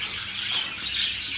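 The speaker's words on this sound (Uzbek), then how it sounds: "Aleksandr qushlarimiz" Alexandrine parakeets in a home aviary give a steady wash of high chirping and chattering, a continuous flock-like din at moderate level with no talking.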